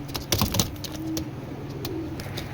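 A pair of racing pigeons cooing softly with a couple of drawn-out low calls, mixed with brief tapping clicks and rustles nearby.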